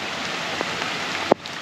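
Steady rain falls through trees beside a small backyard creek with a waterfall, a constant even hiss with a few faint drips and one sharp close tap.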